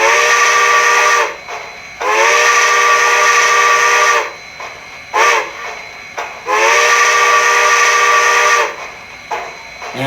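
A model steam locomotive whistle from a Tsunami2 sound decoder sounds for a grade crossing. It gives the long-long-short-long pattern in loud, close chime blasts over steady steam hiss, and nobody talks.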